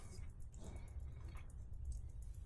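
Electrolyte flows into a Yuasa YTX14-BS motorcycle battery during activation, giving faint, close dripping and trickling over a low background hum, with no voices.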